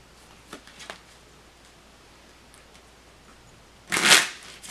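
A deck of tarot cards is shuffled nearby. A few light riffle ticks come first, then a louder, fuller burst of shuffling near the end, with quiet room tone between and no talking.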